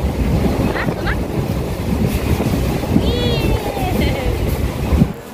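Wind rushes past someone sitting by the open window of a moving vehicle, a steady loud roar with low rumbling and a few faint squeaks.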